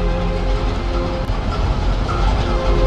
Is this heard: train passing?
yes